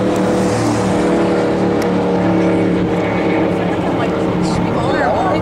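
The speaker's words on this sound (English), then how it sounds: "Dude, they're Indy cars, dude. Watch them on the wall." IndyCar race cars roar continuously nearby on a Las Vegas track, a loud layered buzz of high-revving motors blending together, with voices chattering underneath.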